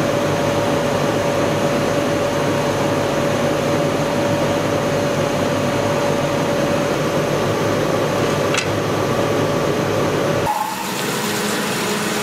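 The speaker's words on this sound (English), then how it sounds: "This week we're going to be using the laser cutter and we're going to make some pottery stamps" A laser cutter runs while cutting clay pottery stamps, giving a steady loud mechanical hum with a constant tone, then dropping to a lower, quieter whir near the end.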